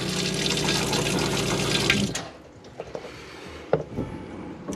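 Water from a tap fills a motorhome tank in a steady loud rush, then cuts off abruptly, leaving quiet drips and faint clicks.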